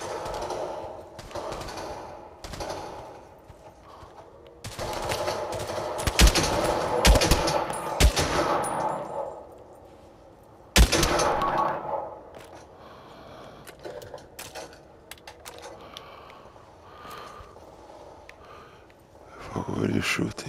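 Gunfire in the VR shooter Pavlov VR: bursts of rapid automatic fire and sharp single shots, some loud and close, some farther off, with people talking between volleys.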